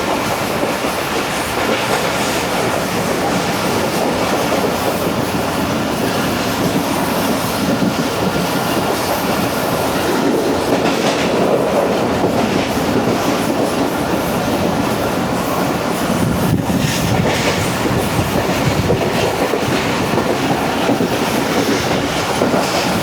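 The Pak Business Express 33UP on Pakistan Railway runs at speed, its steady loud rumble and clickety-clack of wheels filling the whole stretch with no talk.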